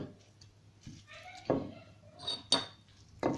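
Utensil clinks and scrapes against a pot as parsley, coriander and other ingredients for a Moroccan pigeon dish are stirred together, a few distinct metallic knocks spaced irregularly over a quiet background.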